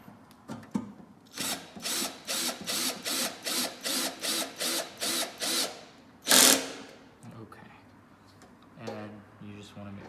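A screwdriver drives the last screw of an evacuation arm in a rhythmic series of about a dozen ratcheting whirs, followed by a short sharp burst and a voice speaking faintly at the end.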